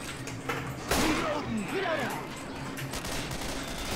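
A rifle fires in Left 4 Dead 2, with one sharp loud shot near the start and lighter game impacts and noise following, while someone talks in Thai.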